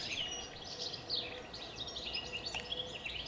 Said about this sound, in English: Are you enjoying the birds with me?